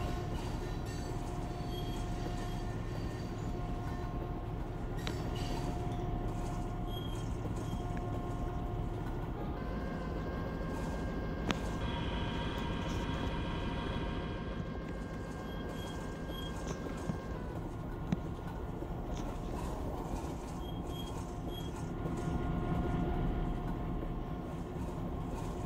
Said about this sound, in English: There's the train locomotive, that black one that passed through Central earlier.